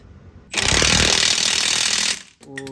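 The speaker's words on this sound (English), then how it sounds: "And then this other side is threaded, so you got to go ahead and run it with the drill there." A power drill runs a nut onto the threaded mount of a rear shock on a 2007-2013 GMC Sierra, giving one loud, close, rattling impact burst lasting about a second and a half before it cuts off.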